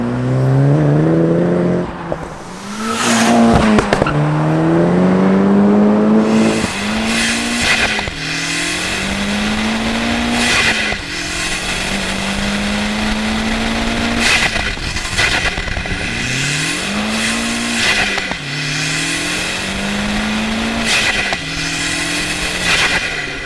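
A 1.8T Seat Leon Cupra R with a non-resonated Miltech exhaust revs loudly and close, its engine note climbing and falling through repeated pulls and gear changes, with tire squeal and no talking over it.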